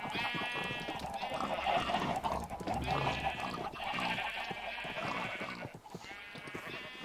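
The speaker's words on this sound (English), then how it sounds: "The pens are probably not big enough for the number of animals that I have, so they make a lot of noise" Sheep bleat over and over in crowded pens in a video game, several overlapping calls forming a loud, continuous chorus close by.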